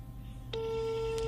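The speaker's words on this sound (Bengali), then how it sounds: "এই যে রিং হচ্ছে" A telephone ringing tone on a call placed during a Dhaka FM radio show sounds after a brief low hum, a steady electronic tone that starts midway and holds, fairly faint.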